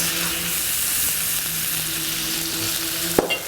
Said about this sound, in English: we're now gonna fry the eggs